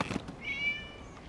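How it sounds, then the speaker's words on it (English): A cat meows once in the video game Genshin Impact, a short, clear call standing alone against a quiet background. "It was just a cat."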